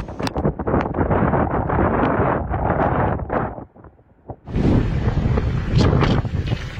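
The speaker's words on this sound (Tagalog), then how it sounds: "ramdam na ramdam ang tila nagngangalit na ulan at hangin" Strong storm wind with driving rain roars and buffets loudly and continuously, briefly dropping to a lull before surging back just as hard.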